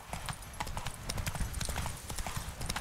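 Horse hooves gallop in the video game The Witcher 3, a fast, steady clip-clop rhythm of thudding beats, close and prominent throughout the short stretch with no talk over it.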